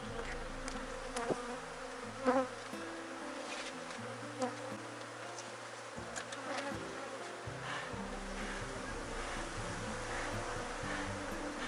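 Honeybees from a split colony buzz steadily around a hive box in the afternoon, a dense continuous drone close by with occasional louder individual bees flying past.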